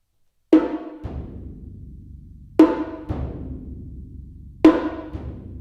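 The simple two-note opening motive of the percussion piece Rebonds: each pair is a sharp, ringing struck note followed half a second later by a softer lower one, repeated three times at slow, even intervals, with long decays and no voices.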